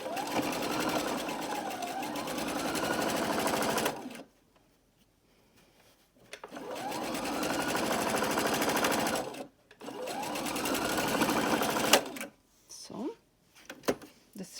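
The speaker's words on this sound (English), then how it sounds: "And just sew a little, straighten out your fabric, continue sewing, pin goes out." Domestic sewing machine stitching a straight seam on fabric, running in three steady motor-driven bursts of several seconds each, separated by short pauses where the fabric is adjusted; close and fairly loud.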